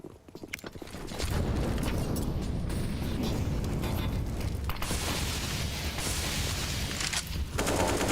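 Rapid gunfire sprays continuously through a competitive shooter video game match, loud and dense, with a grenade-like burst at the start.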